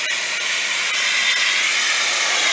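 A pressure washer blasts water against old dirty brick, a loud, steady broadband hiss with a few faint clicks, close and continuous without pause.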